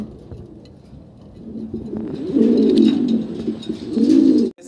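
Pigeons at a pigeon farm coo close by in two rounded, throaty bursts over a low murmur of background activity.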